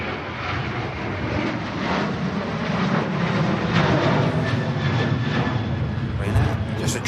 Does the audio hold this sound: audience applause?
no